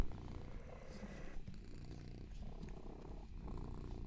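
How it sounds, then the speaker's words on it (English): A cat purrs softly and steadily up close, a low continuous rumble with faint rustling and no talking. "Can you hear her purring, guys?"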